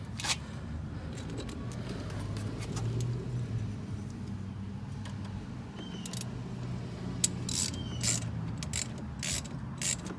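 Ratchet tightening the battery terminal connection on a 2014 Dodge Journey, faint clicking over a steady low hum, then several sharper, louder ratchet bursts toward the end, close by.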